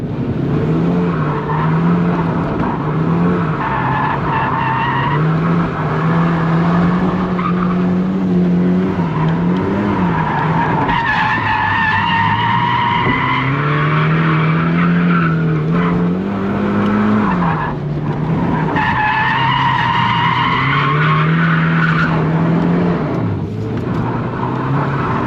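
A Nissan Nismo 270R drifts with a loud, sustained engine drone rising and falling through revs while long tire squeals wail over it in repeated waves, heard from inside the car.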